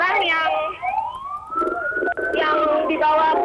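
An ambulance siren wails near a burning Pertamina fuel depot in Plumpang, a loud rising and falling tone sweeping up over several seconds, with a voice speaking and street noise underneath.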